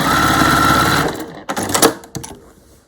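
A sewing machine stitches bunting flags, running steadily and loudly for about a second, then stopping, followed by a few clicks and handling knocks of the fabric and machine.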